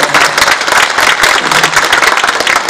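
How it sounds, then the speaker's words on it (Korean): A crowd gives a big round of applause at the opening ceremony of the Icheon International Sculpture Symposium, loud continuous clapping close by with no speech over it. "우리 이윤광 박사, 이윤광 대표님한테 힘내시라고 큰 박수 한번"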